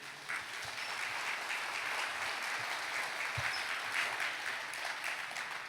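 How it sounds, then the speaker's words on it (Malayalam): Sustained audience applause from a church congregation, steady dense clapping throughout at moderate distance with no speech over it. "ഒന്ന് കൈ ഉയർത്തി കൈയടിച്ച്."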